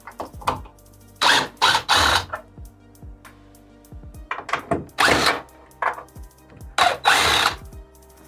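A power drill backs screws out of a wooden shed during demolition, with repeated short whirring bursts of varying length, close and loud, separated by pauses and small knocks.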